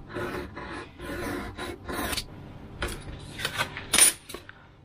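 A blade scrapes and rasps through foam board as it is drawn along a ruler pressed against a table, in several close, uneven strokes with small taps and clatters between them.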